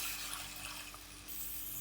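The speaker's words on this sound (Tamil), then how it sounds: "கொஞ்சமாக தண்ணி சேர்த்துக்கலாம்" Water being poured into a lamb leg gravy as it cooks, a steady close pouring and running-water wash with no talk.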